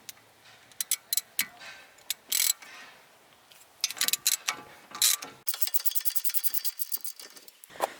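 Ratcheting socket wrench working a small brake caliper bolt on a BMW E46 front wheel hub: bursts of rapid close clicking, sparse at first, then a dense steady run of ticks toward the end, no talk.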